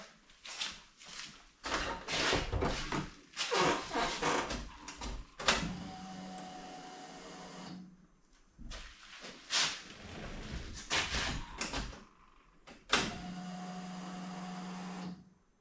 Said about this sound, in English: I'll just quick cycle the key a couple times, let the pump run